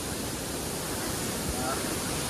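Rain falling outdoors near a village cliffside spot: an unbroken, even hiss of moderate loudness that holds steady throughout, with no voices over it.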